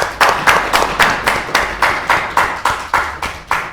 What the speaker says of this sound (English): I'll give Mark a round of applause